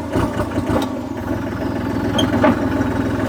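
A used 40-horsepower three-cylinder turbo tractor engine runs at a steady idle, a close, loud, throbbing rumble with a few sharper knocks near the start.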